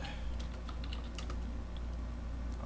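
Rapid, steady keystrokes on a computer keyboard, close and continuous over a low constant background hum, with no talking.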